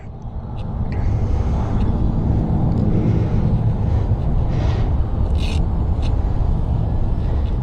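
A Ducati Hyperstrada motorcycle rides up the Las Vegas Strip, its engine a constant loud, low rumble blended with heavy wind buffeting, steady throughout with no pauses.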